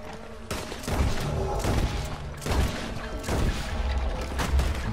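Gunfire in the video game Red Dead Redemption, in the streets of Saint Denis, comes as repeated loud shots and booms in bursts over dense game noise, with little talking.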